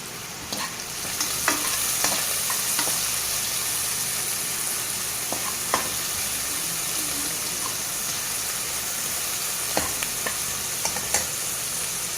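Onions sizzle steadily in a pan, a constant close hiss broken by occasional clicks and scrapes of stirring, with no voices.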